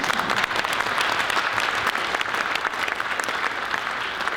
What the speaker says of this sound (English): It's a good time to applaud